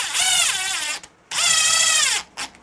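A power drill drives small screws into a door latch during a Kwikset lockset install, two whirring bursts of about a second each, loud and close, then a short final blip.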